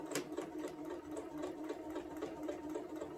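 A sewing machine stitches a quilted placemat with a fast, even mechanical chatter of the needle, steady and close but fairly quiet, running alone without any voices.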